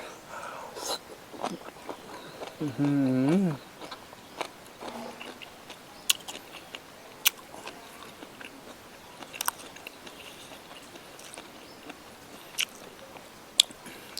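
Chewing squid with homemade spicy dipping sauce, close-up wet bites and soft squishy mastication with scattered sharp ticks, a brief hummed vocal early on, then steady quiet chewing.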